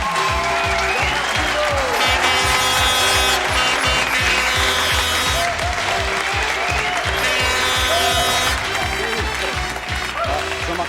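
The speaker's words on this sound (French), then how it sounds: "Et c'était Jean-Marc Thibault, on les applaudit, bravo." A French TV studio audience applauds loudly and continuously on a variety talk show, a dense steady wash of clapping close to the microphones, while a host talks over it.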